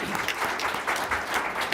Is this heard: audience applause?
yes